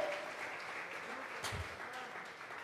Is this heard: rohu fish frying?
no